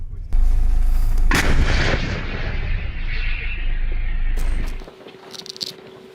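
A loud, close artillery gun blast on the Pokrovsk front in Ukraine booms once, followed by a long rolling echo that rumbles and fades over several seconds.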